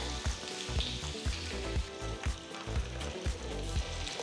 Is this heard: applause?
no